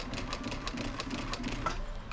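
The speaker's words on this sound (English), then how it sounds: "locking the stitch is when you back up the sewing machine and it goes over top of itself a couple times" A sewing machine stitching upholstery for a 1978 Ford F100 seat runs in a quick, even rhythmic patter of needle strokes, fairly faint and uninterrupted for a couple of seconds.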